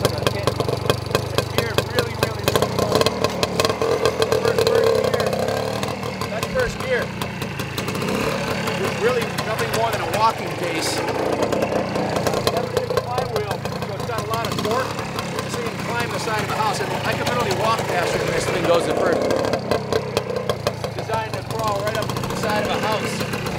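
A 1975 Suzuki RL250 trials motorcycle engine idles with a steady, throbbing exhaust note, close and loud throughout, with a voice speaking over it.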